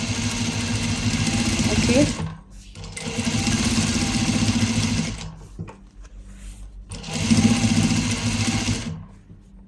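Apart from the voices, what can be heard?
sewing machine stitching panties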